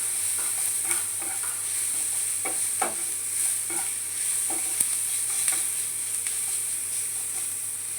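Food frying in a pan sizzles with a soft, steady hiss while a spoon stirs it in intermittent scraping strokes, fairly quiet and close, with one brief knock midway.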